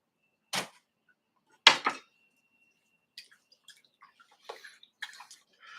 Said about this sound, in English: It's always good to have a big bucket of water nearby to quick rinse your brushes